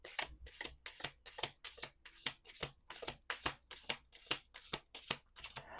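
A deck of cards is shuffled in quick repeated riffles, each a crisp, rapid flutter, about a dozen in a steady rhythm, close but quiet.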